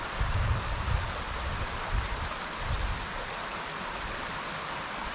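The Soco River flowing near Soco Falls outside Cherokee, North Carolina, a constant broadband watery rush with a few low thuds of footsteps or wind early on, with no voices.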